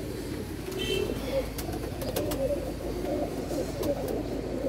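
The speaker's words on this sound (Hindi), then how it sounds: "भाई ये पहला कबूतर आ गया आपका," Pigeons cooing softly in low repeated calls amid a steady background murmur, with a few faint chirps and a voice speaking briefly nearby.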